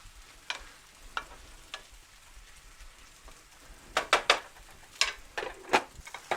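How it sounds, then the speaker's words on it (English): Ground beef browning in a pan for tacos, a quiet low sizzle broken by sharp spoon-against-pan clicks and scrapes as it is stirred, growing busier near the end. "Just stirring in our beef, keep it going until it gets browned."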